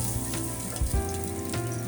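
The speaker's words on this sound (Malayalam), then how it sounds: "പച്ചമുളക് ഇടുക. വാട്ടുക." Green chillies sautéing in a pan for prawn curry give off a steady, close sizzle with soft crackles and a few brief pops, with no one talking.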